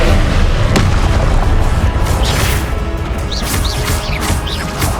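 A Confringo spell explosion in the game Hogwarts Legacy: a loud booming blast with a sharp crack early, then rumbling, crackling debris and whooshing magic effects fading over several seconds.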